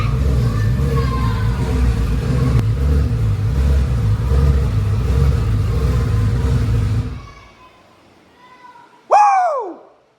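Twin-turbo Gen 2 Coyote engine in an F150 revving hard and loud at first startup for about seven seconds before cutting off, followed by a brief sharp squeal-like burst near the end.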